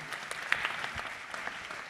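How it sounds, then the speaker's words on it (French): An audience applauding award winners at an events-industry awards night, a faint, distant patter of clapping from a crowd, steady for a couple of seconds. "on peut les applaudir"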